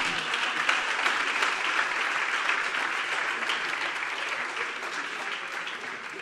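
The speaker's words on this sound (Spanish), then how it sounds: "Un aplauso, por favor." At a conference, an audience claps in a long, even, sustained burst of applause, moderately loud and unbroken for several seconds, with no voices over it.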